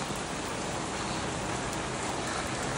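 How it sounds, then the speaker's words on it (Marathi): Steady rain falls alone in a dense, unbroken wash of patter, close and fairly loud throughout, with no voices. "आज जरा लवकरच आलो आहे पण पाऊस पडतो आहे"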